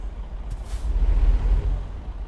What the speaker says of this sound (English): Thank you, Brakes on a Freightliner, for stopping on time.